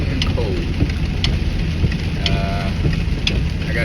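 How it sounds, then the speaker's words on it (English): Steady rain falling on a cold day, a continuous close hiss with scattered drop impacts and faint background rumble, no talking. "it is raining and cold."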